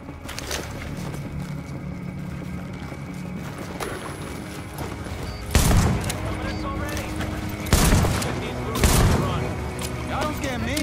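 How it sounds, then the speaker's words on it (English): Suppressive gunfire in the video game Tom Clancy's The Division: bursts of shots and sharp impacts break over a steady backdrop of game sounds, with a few louder cracks standing out. "They're laying down suppressive fire."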